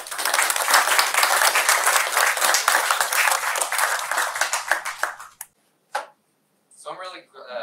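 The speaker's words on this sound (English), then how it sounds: "Give them a big round of applause." A crowd applauds loudly and steadily for several seconds, the clapping cutting off abruptly before a voice begins speaking.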